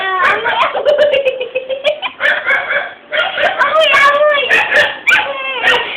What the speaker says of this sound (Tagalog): Pagalitan mo yung aso, tumatahol.